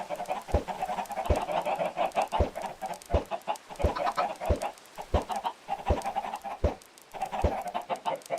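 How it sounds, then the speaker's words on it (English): Chickens cluck steadily and close by, with a steady stream of rhythmic clucks and sharp, regular knocks underneath, and no talk. "There's a chicken on the run."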